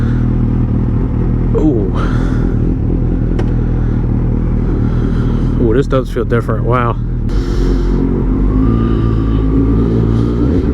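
A Suzuki GSX-S 750 motorcycle with an integrated tail revs its engine close by, a steady rumble with brief sharp rising and falling blips midway, while a man reacts over it.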